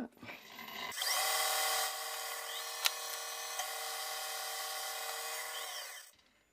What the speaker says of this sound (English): That's coping quite well, drilling full depth.